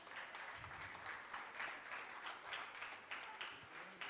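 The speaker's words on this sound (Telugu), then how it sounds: "పిల్లలు మీరందరూ ఒకసారి అందరూ క్లాప్స్ కొడితే బాగుంటుంది అనుకుంటున్నా" Children and parents at a Sunday school candle lighting service in a church clap together, a faint, sustained patter of applause that keeps a steady level for several seconds.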